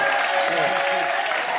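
Studio audience applause on a French television talk show, a steady dense wash of clapping with voices faintly mixed underneath.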